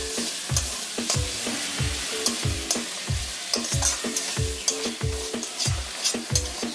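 Ginger garlic paste, about two spoonfuls, fries in a pan with an even sizzle while a utensil scrapes and stirs in a regular rhythm, roughly twice per second.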